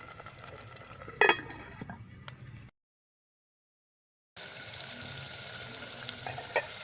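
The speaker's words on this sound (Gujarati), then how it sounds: "ગ્રેવીમાંથી તેલ છૂટું પડે ત્યાં સુધી આપણે એને ઢાંકીને થોડીવાર બેથી ત્રણ મિનિટ ચડવા દઈશું" Cashew curry gravy cooks in a covered pan with a soft, steady sizzle and bubbling, faint and close, with a brief clink near the start and a short gap of silence midway.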